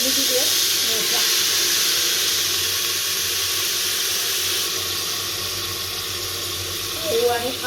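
Taro leaf vegetable steaming in a pot, a loud continuous hiss of steam that holds steady throughout, with a faint voice murmuring underneath.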